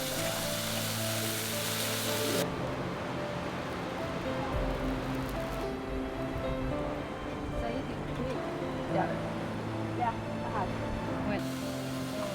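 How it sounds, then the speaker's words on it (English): Satay veggie stir fry sizzling in a pan on a gas cooker outdoors, a steady crackling hiss running throughout, fairly close and loud, with a low burner rumble beneath and occasional talk over it. "We're going to just mix in some satay sauce and do like a satay veggie stir fry."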